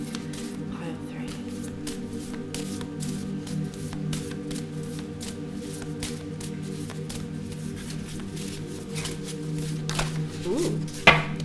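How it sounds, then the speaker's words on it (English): Tarot cards shuffled steadily during a reading, a continuous soft riffling and sliding of cards with a low hum underneath and a sharper rustle near the end. "Cards were shuffling weirdly"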